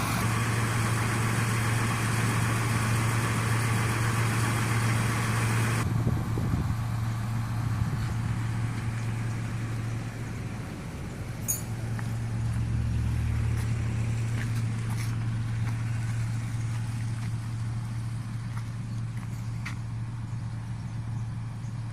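A John Deere tractor's engine idles in a street, a steady low rumble and hum that drops in level partway through and continues with faint clicks and knocks, no talking.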